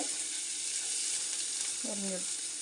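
Small onions and fennel seeds fry in a pan with a steady, hissing sizzle throughout, close and fairly loud, broken briefly by a short tonal sound near the end.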